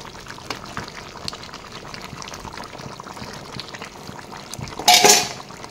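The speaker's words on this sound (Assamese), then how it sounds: "এইখিনি এতিয়া ভালদৰে মই উতলিব দিম" Duck curry with potatoes and a cup of water bubbles in a pot, giving a low, steady simmer, and near the end a brief louder burst sounds like liquid being poured or stirred.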